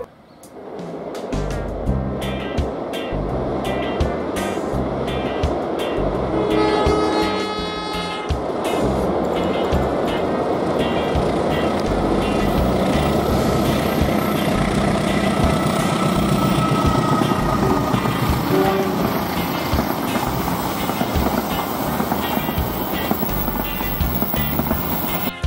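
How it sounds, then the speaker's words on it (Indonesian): The Joglo Semarkerto passenger train rolls over the Mbeling railway bridge across the Kali Progo in Kulon Progo, Indonesia: a continuous loud rumble and rushing roar with rhythmic wheel clatter early on, sustained throughout. "Kereta api Joglo Semarkerto dari Semarang ke Solo Balapan."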